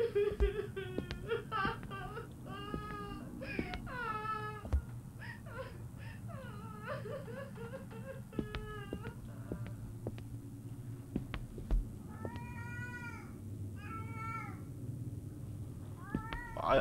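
A cat in the horror game Erie meows repeatedly in drawn-out, plaintive cries over a low droning background hum, with pauses between calls and a few sharp clicks.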